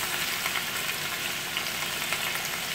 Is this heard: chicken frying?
yes